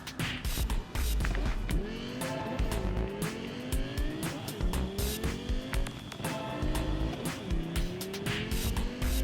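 A car driven in the video game Cyberpunk 2077: a steady engine roar with repeated rising and falling revs and tire squeals, loud and continuous throughout, without any talk.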